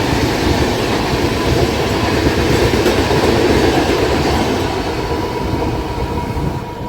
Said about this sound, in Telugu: Vijayawada Secunderabad Satavahana super fast.